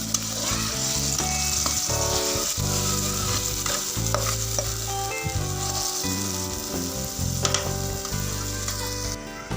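Green chillies and tomatoes fry in hot oil for a tribal-style fish curry, a loud close sizzle with frequent scraping stirs and clanks of a utensil against the pan, and no voices.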